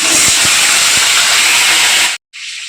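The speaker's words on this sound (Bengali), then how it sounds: "আমি প্রেশারে কিন্তু এটা সিটি বসিয়ে দিলাম।" A pressure cooker with its whistle weight on vents steam in a loud, continuous close hiss that cuts off abruptly, then resumes after a brief silence.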